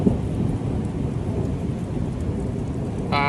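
Steady rain pours down in a dense, constant hiss, with low rumbling underneath, heard from close by and without any talk.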